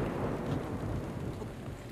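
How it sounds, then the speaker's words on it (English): Thunderclap from a lightning strike on a chest in the Zelda Breath of the Wild video game: a dense, low rumbling roar with rain-like crackle lasting about two seconds, fairly faint overall. "Lightning fucking striking a chest."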